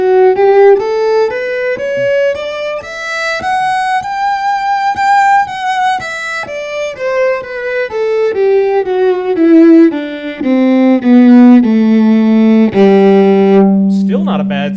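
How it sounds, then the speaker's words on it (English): Fiddle played through a violin pickup with no EQ, a bright, slightly brittle bowed melody of sustained notes sliding down in pitch and ending on a long low note, close and loud, with no voices. "So without the EQ, Nothing. It sounds like this."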